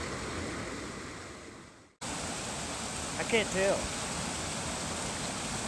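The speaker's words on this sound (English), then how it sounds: "we stopped here at this little waterfall" A small mountain waterfall in Colorado's Holy Cross Wilderness gives a steady, close rush of falling water. The sound breaks off briefly partway through, and a voice speaks quietly over the water.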